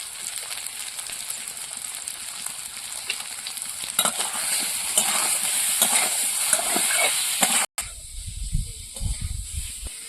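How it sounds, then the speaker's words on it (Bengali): Fish curry spices cooked down with salt and turmeric, hissing and sizzling steadily in a pan while a spoon stirs and scrapes, close and fairly loud, with a short break near the end. "লবণ আর হলুদ দিয়ে ভালো করে কষিয়ে নেব।"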